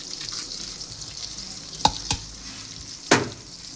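Blanched garlic frying gently in a pan over very low heat, a soft steady sizzle with a few sharp clicks and pops from stirring or spattering, no talk.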